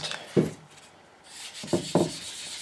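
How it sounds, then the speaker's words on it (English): Three short scraping rubs, one then a pair, with quiet pauses between, light hand sanding on a guitar top close by. "some light sanding"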